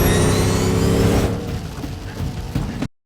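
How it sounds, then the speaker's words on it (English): The hyper car engine in a chase scene from The Batman revs loudly with a whining roar, eases into a lower rumble with a couple of bursts, then cuts off abruptly. "I love the sound design. I like his like hyper engine."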